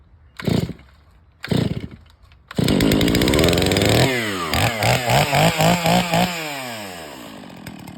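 A two-stroke chainsaw comes to life after pull starting: two short rasping pulls, then the engine catches and roars loudly, followed by a series of throttle blips revving up and down before settling into a high idle.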